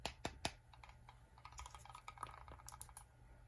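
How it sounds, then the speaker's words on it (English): Old plastic transfer case from a 1/10-scale RC jeep rattles in quick, irregular clicks and taps, fairly close and quiet, with a few sharper knocks at the start. "A little bit of rattling going on there."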